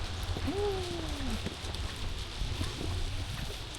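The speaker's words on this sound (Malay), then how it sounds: "Angin kuat" Strong wind buffets a rider on a Kawasaki motorcycle ride in the Cameron Highlands, a constant loud roaring rush across the whole stretch with a brief whistling tone near the start.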